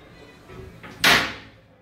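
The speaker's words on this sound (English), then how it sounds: "I'm only showing you this so you can hear the sound when you close the door" A small bathroom door in a hotel in Hvar, Croatia, swings and shuts with a single sharp, loud knock near the end, after a soft creaking movement, in a quiet room.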